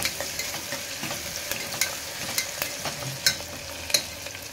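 Ginger garlic paste fries in a pan with a steady soft sizzle, broken by sharp scraping and clinking taps of a spoon as it is stirred.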